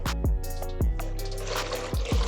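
Lukewarm water is poured into a bread dough mixture of brown sugar and yeast for Portuguese rolls, a short steady splashing stream with a few soft thumps, close and fairly quiet.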